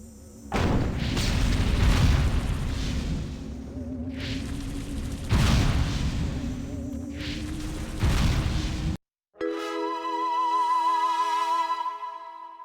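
Loud explosions and gunfire from the Destroy All Humans video game as aliens open fire on humans, three heavy booming bursts with rumbling tails, then a brief silence and a steady tonal hum.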